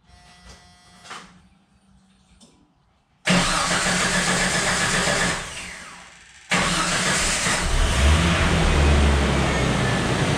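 A 1987–1992 Jeep Comanche engine cranks and fires up after a fuel pump upgrade, then settles into a loud, steady run close by, with a brief dip before revving up strongly again.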